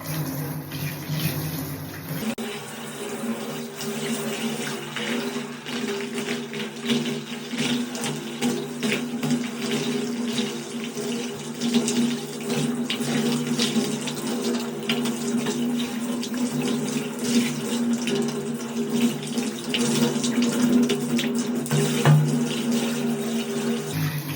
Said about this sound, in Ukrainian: Так, я намилила і змиваю гарно.